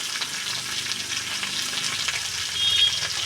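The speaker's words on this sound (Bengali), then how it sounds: "পেঁয়াজটা দিয়ে দিলাম" Chopped onion added to fried potatoes in a hot oiled pan, a dense, steady close sizzle with faint stirring, continuous throughout.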